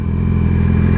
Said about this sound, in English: I can't wheelie, so I can rev it.